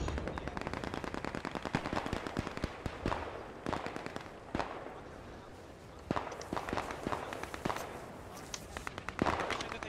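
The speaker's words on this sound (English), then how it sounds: "Watch out for that MG." Machine gun fire in a first-person war shooter, an MG raking in dense rapid bursts with scattered single gunshots, loud and close throughout with short pauses, under occasional voices.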